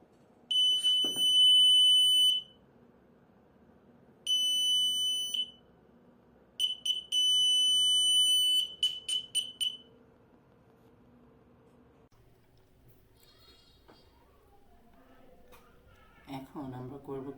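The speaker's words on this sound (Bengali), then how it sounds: "এখন জাস্ট সেন্সরের সামনে হাত নিলে অ্যালার্ম বেজে উঠবে" A car reversing sensor alarm on a back camera installation, sounding in several bursts of rapid high electronic beeping separated by quiet gaps, with faint background noise and a voice near the end.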